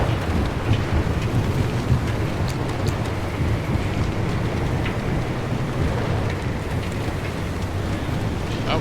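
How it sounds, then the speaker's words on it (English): Lightning strikes the ground during a storm in the video game Pacific Drive, heard as a continuous rumbling, rain-like roar with low thunder swells and faint crackles, steady in level throughout. "Lightning striking the ground."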